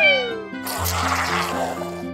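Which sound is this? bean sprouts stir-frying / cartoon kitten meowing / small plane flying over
cartoon kitten meowing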